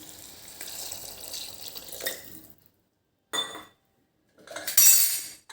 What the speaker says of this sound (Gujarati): અને એની અંદર અડધો ગ્લાસ પાણી એડ કરીશું